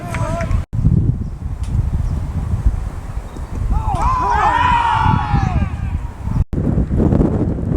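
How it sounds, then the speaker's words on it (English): Strong wind buffets the microphone at an outdoor cricket match, a loud, continuous rushing rumble with gusty swells. Faint tonal whistles pass briefly in the middle. "Gosh, the wind's really picked up."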